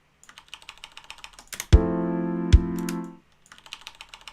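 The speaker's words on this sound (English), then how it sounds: "my keyboard's so loud when I press the keys." Computer keyboard keys clatter in a music studio, a quick run of clicks before and after a loud sustained synth tone that briefly covers them.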